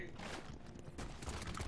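Dense rapid gunfire from the video game Paladins crackles in a continuous cluttered burst, fairly faint and mixed with game noise over under two seconds.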